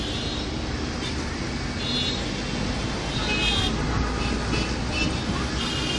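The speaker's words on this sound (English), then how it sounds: "it's as I said, very loud, and everybody's just using the horn just in case for whatever reason" Dense, loud street traffic in Dhaka, a constant roar of engines with brief horn toots rising above it now and then.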